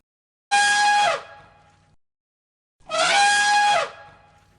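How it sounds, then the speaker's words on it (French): An elephant trumpets twice, each a loud, brassy blast lasting about a second, with a short pause between them and silence around them. "L'éléphant barille."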